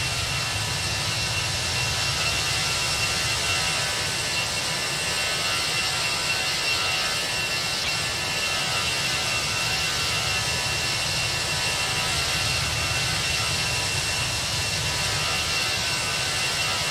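Steady, dense jet engine roar of a Toliss A321 airliner during descent in the X-Plane 11 flight simulator, a constant broadband rush with low rumble holding evenly throughout, no voices.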